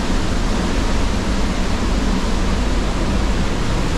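A river rushes in a steady, loud roar of broadband water noise, unbroken and without voices, near a remote spot in Kushma, Nepal.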